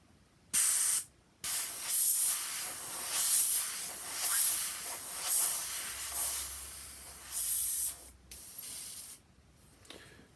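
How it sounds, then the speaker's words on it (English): A small Grex airbrush sprays paint onto a red stencil in repeated hissing bursts, each lasting a second or more, starting and stopping with brief silent gaps between them, close and fairly loud. "I want to try the next airbrush and see if I can get anything out of it"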